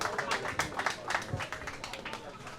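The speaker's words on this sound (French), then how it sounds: "Les applaudissements." Applause breaks out at the launch ceremony of the Foundiougne nautical club: a steady wash of many hands clapping at once, fairly close and continuous, with voices mixed in underneath.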